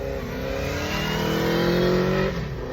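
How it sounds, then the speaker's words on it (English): A motorbike engine revving steadily, a droning mid-pitched note that swells louder and then drops off near the end, heard at moderate distance with no talking. "there you go, it's a motorbike"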